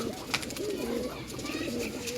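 Pigeons coo softly and continuously nearby, overlapping rolling calls with a brief faint knock early on.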